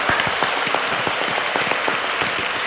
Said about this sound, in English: Everybody give it up for Eric